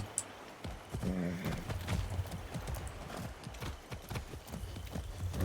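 Horse hooves clip-clopping in the video game Far Cry 6, a steady rhythmic trot of close, distinct hoofbeats with a brief whinny and game sounds around it.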